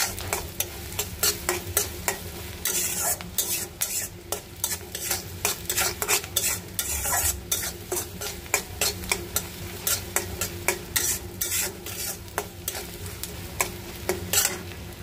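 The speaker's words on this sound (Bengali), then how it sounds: "লাল শাকের জন্য পেঁয়াজ, কাঁচামরিচ, রসুন এগুলো ভেজে নিতেছি।" Onion, green chili and garlic frying together for a red spinach dish, a loud close sizzle punctuated by quick, rhythmic spatula strokes clattering against the pan, with no voices.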